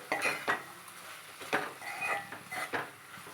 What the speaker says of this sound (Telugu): ఆమ్లెట్లు ఇలా ముక్కలు కాకుండా నెమ్మదిగా ఇలా చూసుకుంటూ కలుపుకోవాలి